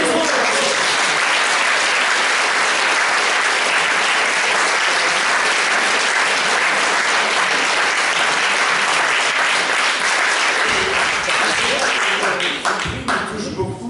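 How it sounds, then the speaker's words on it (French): Sustained audience applause at a 2016 theatre festival award ceremony, loud dense clapping filling the whole stretch and thinning slightly toward the end. "Applaudissements."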